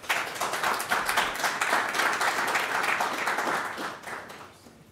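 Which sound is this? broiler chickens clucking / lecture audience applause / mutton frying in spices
lecture audience applause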